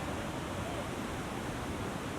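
Sissu Waterfall in Himachal's Lahaul Valley, a powerful, constant roar of rushing water heard up close as a dense, unbroken wash of noise.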